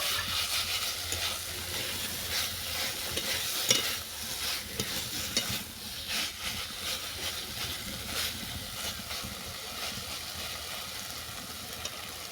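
Bottle gourd greens are stirred and sautéed in a pan, giving a continuous soft sizzle with irregular scraping and stirring movements throughout.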